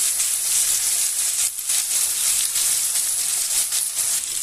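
Ginger garlic paste and green chillies frying in a pan with softened tomato and onion for a Bengali aloo dum, a loud, steady, close sizzle with bursts of crackling hiss.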